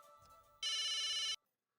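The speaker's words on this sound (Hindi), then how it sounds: "1 मिनट, फोन।" A mobile phone ringtone sounds in a Hindi sitcom scene, a bright, steady electronic tone bursting in loudly for under a second before cutting off into silence.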